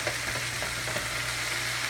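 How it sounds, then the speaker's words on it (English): Onions and peppers fry in a pan with a steady, fairly close sizzle and faint popping, continuous and without voices. "I'm going to jump in all of my onions and peppers. Okay, so those can get started. I'll let those cook down a little bit."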